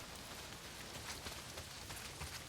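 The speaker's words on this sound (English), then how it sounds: "A lot of it's pissing down rain." Heavy rain pouring down in the video game Days Gone, a faint, steady broadband hiss of drops with no talk over it.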